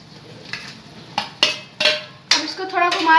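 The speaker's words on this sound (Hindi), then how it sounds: "अब इसको थोड़ा घुमा देंगे, इसको थोड़ा मिक्स होने दीजिए, पनीर अच्छे से पालक में डूब जाए।" Paneer cubes stirred into spinach puree in a metal pan, a few distinct clinks and scrapes of a spoon against the pan, irregular and close, growing busier toward the end.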